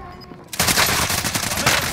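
Rapid gunfire from the video game Call of Duty: Modern Warfare erupts after a quieter half-second, a dense, loud, continuous burst of shots that fills the rest of the clip.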